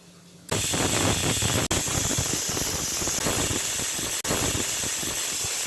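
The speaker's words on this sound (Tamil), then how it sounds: "பற்ற வச்சுட்டு குக்கரை அதில் வச்சுக்கலாம் இப்போ விசிலியும் போட்டுக்கலாம்" A pressure cooker on a stove hisses out steam in a loud, continuous jet while moong dal lentils cook inside, broken by two brief cut-offs.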